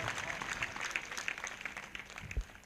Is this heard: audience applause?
yes